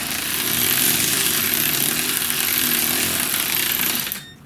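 Power tool gun running during a 2010 Chevy Equinox transmission replacement, a loud, close, continuous buzzing whine held for several seconds before cutting off abruptly.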